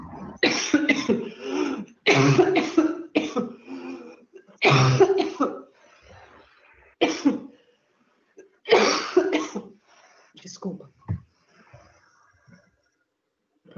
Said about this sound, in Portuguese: professora está com tosse.